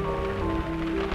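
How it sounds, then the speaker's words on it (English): Rain falls steadily on leaves, a dense, even patter of drops sounding close and continuous with no voices over it. "Oh! Rain!"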